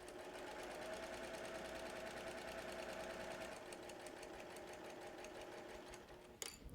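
A sewing machine runs steadily while stitching a quilt panel, its fast, even needle chatter close and continuous, with a slight change in pace partway through and a few clicks at the end.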